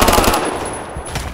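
Rapid MG36 machine gun fire in a video game team deathmatch, a loud continuous burst of rattling shots that fades slightly at the end.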